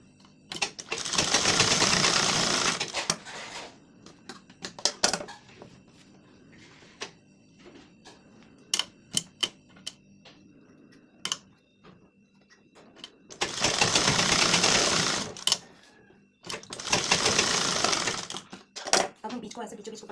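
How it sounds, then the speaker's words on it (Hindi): A sewing machine runs double rows of stitching along the tucks of a blouse, in bursts of rapid, steady whirring separated by quiet pauses with small clicks and handling noises; no speech. "इसे हम डबल सिलाई दे देंगे।"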